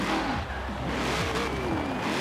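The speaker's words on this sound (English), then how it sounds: "Let's rev it up." Corvette C8 from 2020, driven in the racing game Forza Horizon 4, revs repeatedly: a loud engine note that rises and falls in quick sweeps over a steady rumble, with no talking.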